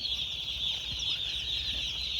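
Chickens in a village poultry farm keep up a steady chorus of high chirping and clucking, an even, continuous flock sound with no talk over it.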